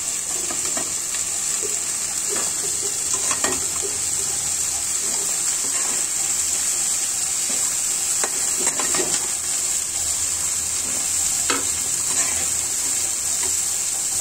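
Chickpeas sizzle as they fry in a pan, a steady hiss running throughout with scattered faint clicks and scrapes of stirring, fairly close and even in loudness.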